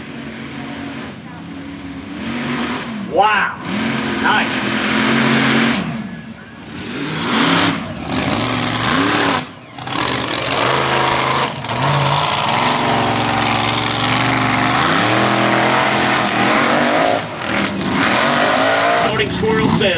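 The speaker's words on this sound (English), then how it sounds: "Another blower motor truck." A blower-motor race truck at a dirt track at Bithlo revs hard over jumps, its loud engine surging and dropping in repeated bursts with brief cutoffs, while people talk and exclaim nearby.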